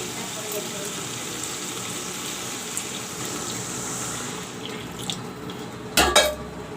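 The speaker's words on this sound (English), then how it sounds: "Now I will put some water" Water poured into a pan of potatoes frying with masala, a steady gushing hiss that runs on for several seconds, followed by a brief louder splash and sizzle near the end.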